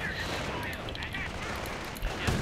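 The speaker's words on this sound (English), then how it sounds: "Stug again, just firing away here." StuG assault gun firing in a video game, a series of sharp distant-sounding shots and bursts over a battlefield din, with a heavier blast near the end.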